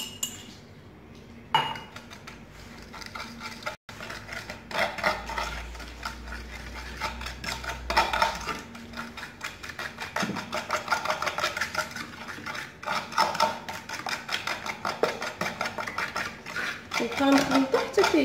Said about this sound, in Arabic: كنخلطو حتى كيندمج لينا السليمه مع البيض على هذا الشكل هذا